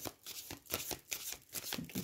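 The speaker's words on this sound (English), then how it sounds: "give them an initial shuffle and then I'll do the bridge with them" A deck of oracle cards being shuffled by hand, with repeated soft riffling bursts in a quick, uneven rhythm, close and fairly quiet, with no talking.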